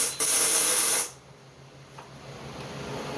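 A can of anti-spatter spray hisses in one loud close burst of about a second onto parts before welding, then cuts off, leaving faint shop background.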